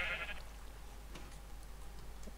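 A sheep bleats in the Minecraft video game, one short mid-pitched call near the start against a steady low hum, followed by faint scattered ticking clicks.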